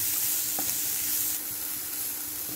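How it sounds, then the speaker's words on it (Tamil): Onions fry toward golden in a pan for a butter mushroom gravy, a loud continuous sizzle broken by a few scraping stirs, softening slightly partway through. "வெங்காயம் நல்லா கொஞ்சம் பொன்னிறமா வறுக்கறதுங்க"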